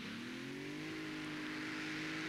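Super Special class pulling tractor with three Keith Black engines, about 4,500 horsepower, at a tractor pulling event in Herning, Sweden's five-time champion driving: a loud, steady roaring engine drone with a slight rise in pitch, heard close and without talk.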